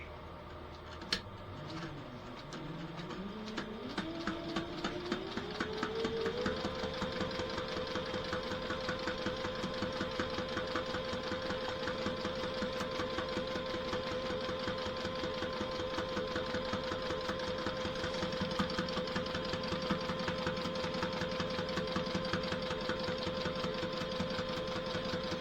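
Sewing machine stitching a sailboat dodger side panel, starting slowly and ramping up within a few seconds into a steady, rapid, rhythmic whir and clatter that runs on evenly at close range.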